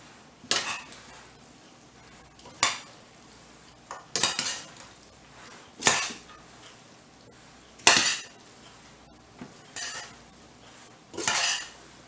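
A utensil stirs spaghetti, crab and a vegetable salad with peppers in a bowl, about seven separate bursts of scraping and clinking spaced a second or two apart, close and fairly loud, with quiet pauses between and no talk.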